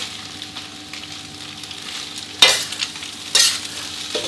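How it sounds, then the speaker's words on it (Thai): Cabbage stir-fried with egg in a hot pan gives a steady sizzle, broken by two sharp scraping stirs of the spatula against the pan, close up and with no talking. "ผัดให้กะหล่ำปีโดนกระทะร้อนๆสักครู่ครับ"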